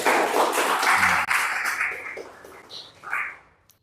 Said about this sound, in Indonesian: tepuk tangan dulu buat Kayla dong.